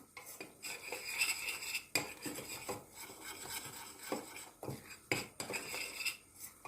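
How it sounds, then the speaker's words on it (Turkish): Flour being stirred in a pan for a béchamel sauce gives steady scraping and rubbing with repeated metallic clinks of a utensil against the pan, close and fairly quiet with no talk. "Karıştırıyorum ki unun topaklanmasın."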